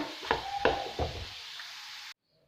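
A spoon scrapes and knocks in a pan as gram flour halwa is dished out. Three or four distinct clinks and scrapes sound close by over a soft sizzle, and the sound then cuts off abruptly.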